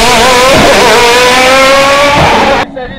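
A powerful turbocharged race car climbs the Bagnols-Sabran hill climb course in France, its engine roaring loud and close with pitch rising through the revs before the sound drops away abruptly near the end.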